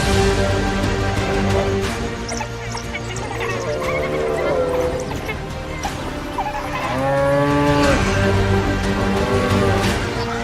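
A herd of wild Cape buffalo, several deep drawn-out lowing calls rising and overlapping amid rustling movement, some calls close and others farther off.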